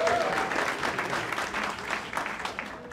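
Audience at a live stand-up comedy show breaks into steady applause mixed with some cheering, dense and fairly loud throughout, with no talk heard.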